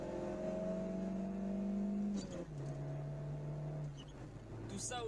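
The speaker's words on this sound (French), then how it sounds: "Écoutez ce moteur." A prototype car engine fuelled by alcohol and fitted with a carburettor runs and revs near the listener. Its steady tonal drone holds and then drops in pitch a couple of times, with a faint voice-like sound over it.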